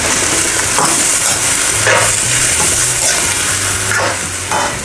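Beef and noodles toast in a hot pan, giving a loud steady sizzle with a few brief scraping bursts from stirring and no voices.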